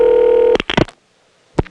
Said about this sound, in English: we heard the ESS sound, which is the sound of a trunk being connected to a trunk